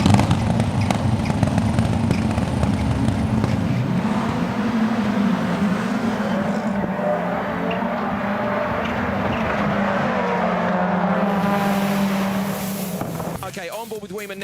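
Rallycross race cars in a World RX race power through a right-hand corner, loud sustained engine roar with rising and falling pitch as they accelerate, heard under a commentator's voice.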